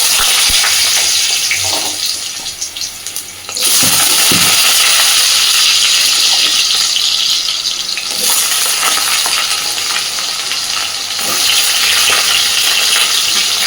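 Small diced potatoes drop into hot oil tempered with dried chili, bay leaf and whole cumin, giving a loud, continuous sizzle that swells and dips as the pieces are stirred, with scraping clicks near the start.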